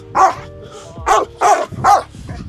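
A large dog barks four times in loud, close, spaced yaps with some whimpering tone, no voices over it.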